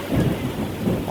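Steady rain with rumbling thunder at a railway station, a dense, continuous low roar filling the whole stretch without voices.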